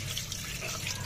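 Tap water runs steadily over fish being washed in a sink, a continuous close rushing splash with no pauses or talking.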